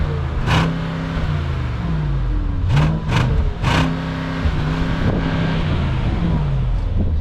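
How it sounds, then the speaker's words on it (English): Mercedes-Maybach SL 680 engine in comfort mode while driving, a steady, smooth drone with rising and falling pitch sweeps as revs change, heard from inside the car. "So that's how the car sounds like in comfort."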